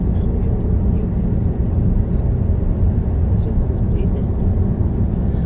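A car drives through a highway toll on the way into Lisbon, Portugal, with a loud, steady rumble of engine and road noise filling the cabin from start to finish.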